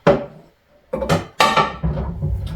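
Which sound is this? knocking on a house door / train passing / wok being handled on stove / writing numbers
wok being handled on stove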